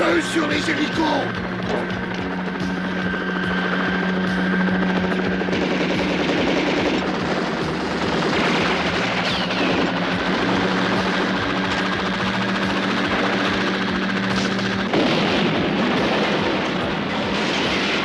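Helicopters come under heavy gunfire in a French-language action film, with continuous loud machine-gun bursts over rotor and engine noise and shouted voices mixed in.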